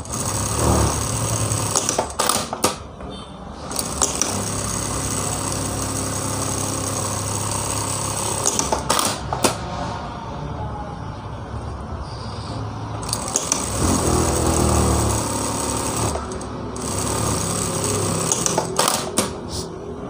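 A sewing machine running in bursts while stitching the side seam of a lined blouse, loud close mechanical whirring with brief pauses and sharp stops between runs, no speech.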